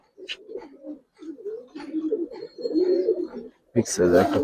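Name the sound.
Giribaz pigeons being released, cooing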